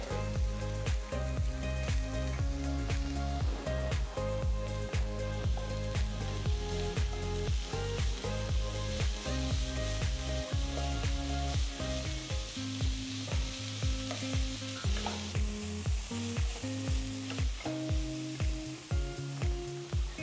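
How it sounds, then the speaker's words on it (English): Grated carrots sizzle in a pan with fresh turmeric, a close, steady frying hiss broken by repeated stirring and scraping strokes over a long stretch. "Next, I'm going to add 3 large carrots that's been grated."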